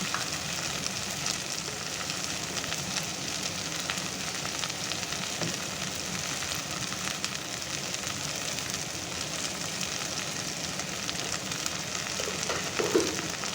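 Drumstick leaves frying in a pan give a steady, soft crackling sizzle, fairly quiet and even throughout, with a slight louder patch near the end.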